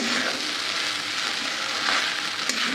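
Spicy red-chili sabudana khichdi with potato sautéing in hot oil, a steady close broadband sizzle throughout with a few faint stirring scrapes, no voices.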